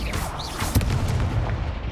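Incendio fire spell cast in the Hogwarts Legacy video game, a dense rumbling whoosh with a sharp burst near the middle over a busy low game mix, no speech.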